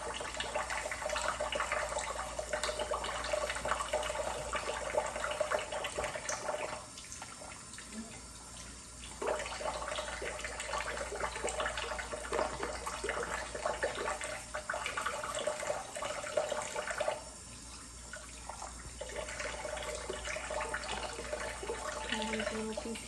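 Water runs steadily from a sink tap for rinsing during artificial nail tip application, a continuous splashing flow with a couple of brief dips where the stream is interrupted, close and moderately loud.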